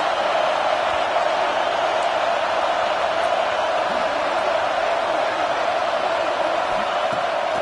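A football stadium crowd roars steadily in support of the defense on a big third down in the red zone during an NCAA game against Auburn, a dense, continuous wash of cheering at a distance.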